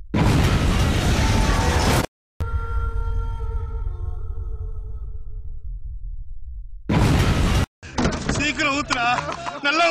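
A cartoonish gas stove explosion in a house, with a loud broadband blast, a sudden cutoff, a ringing tonal tail that fades, then a second burst of noise and warbling effects.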